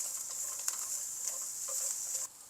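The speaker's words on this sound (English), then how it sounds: "Then add in your white onions. Stir fry for about 30 seconds." White onions sizzle in a hot pan while being stir fried, a steady hiss with small patters and scrapes from stirring, cutting off abruptly near the end.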